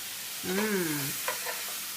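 A steak sizzles on a griddle with a steady, bright frying hiss throughout, while a voice hums briefly partway through.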